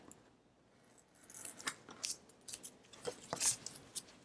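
Scissors trimming cardstock for a handmade reusable greeting card, several crisp close snips in quick succession after a quiet start, with faint handling noise.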